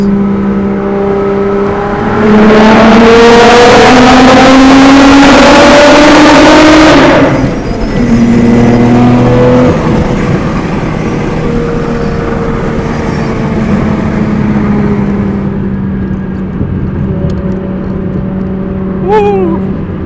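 A Nissan R32 GT-R engine revs hard and loud in third gear in a tunnel with the windows down, echoing, then drops to a lower rumbling drone with a faint squeak near the end.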